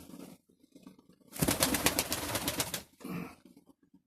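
Pigeons from Kirovohrad, Ukraine, with a dense burst of bird activity in the middle that may include cooing, framed by softer, quieter stretches before and after.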